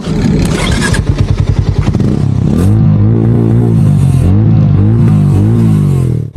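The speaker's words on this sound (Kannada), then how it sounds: "ಈಗ ಎಕ್ಸಾಸ್ಟ್ ನೋಟ್ ಕೇಳಿ ಯಾವ ಥರ ಇದೆ ಅಂತ." A Hero Mavrick 440 motorcycle engine is blipped and revved loudly up close, its deep thumping exhaust note rising and falling in a series of throttle pulses.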